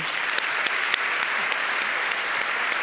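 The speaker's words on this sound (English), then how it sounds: "So let's give them a round of applause." An audience claps steadily for a few seconds, a dense even patter of many hands with a few sharper claps standing out.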